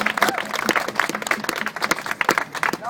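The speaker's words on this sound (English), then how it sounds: "So give yourselves a round of applause one more time for dealing with the smell and the stink." A protest crowd on Wall Street applauds, dense fast clapping with scattered voices mixed in, steady throughout at moderate distance.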